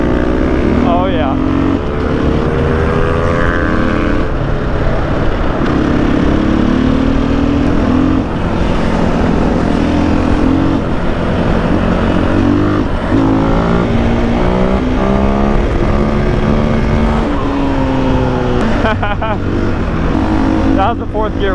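A KTM 500 EXC dirt bike pulls a fourth-gear wheelie, its engine loud and close, revving and climbing in pitch throughout over wind noise, with voices talking.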